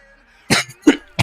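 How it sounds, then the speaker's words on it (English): Three harsh, close coughs in quick succession, each short and throaty. "gotta get rid of this cough"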